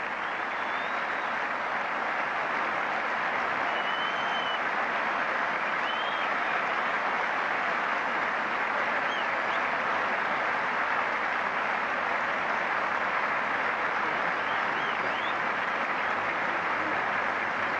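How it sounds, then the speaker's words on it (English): Sustained applause from a cricket crowd and players greets Graham Gooch leaving the field after his 333 in the 1990 England v India first Test, a dense, even wash of clapping that continues without a break. "Leader of his side, the Indian players applauding."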